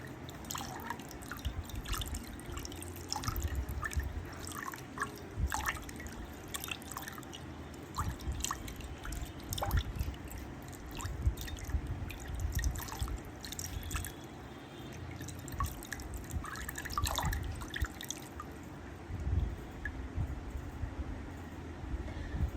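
Water drips steadily into a bowl while makeup is being set, small irregular drops landing over a continuous low background rumble, fairly close and without speech.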